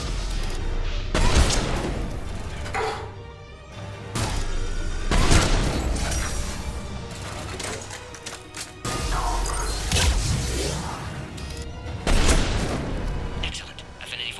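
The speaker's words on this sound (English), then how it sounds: "Don't know why the random explosions" Repeated explosions boom and crash in a Mass Effect 3 battle on Sur'Kesh, several heavy blasts arriving every couple of seconds amid gunfire, loud and close, with voices talking over the combat.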